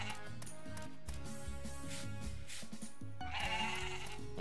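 Goats bleat in the farming video game Story of Seasons: Pioneers of Olive Town, a few wavering calls over continuous background game music.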